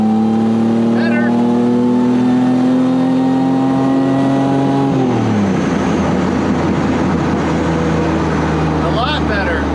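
A Pontiac Fiero engine holds a loud steady rev, then drops sharply on a downshift and roars back up, close and continuous, with a voice talking over it.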